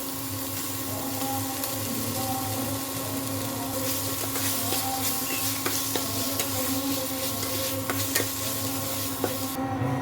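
Coconut paste sizzles and fries in masala while being stirred, a steady crackling hiss with faint scraping and clinks of the spoon throughout.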